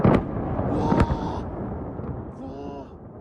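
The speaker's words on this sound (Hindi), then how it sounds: "धमाकों से पूरा तेहरान दहल रहा है" Explosions from missile strikes in Tehran: two sharp, heavy booms close together near the start, followed by a continuous rumble while agitated voices shout over it.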